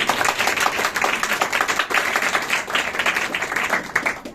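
Clapping from a church gathering during a sermon, a fairly close, uneven burst of hand claps with some rhythmic pulsing, lasting a few seconds.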